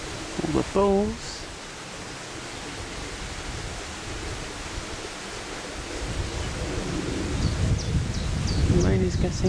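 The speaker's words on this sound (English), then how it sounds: "The rain is getting heavier" Heavy rain falls outdoors as a steady broadband hiss throughout, with brief voiced sounds near the start and end over it.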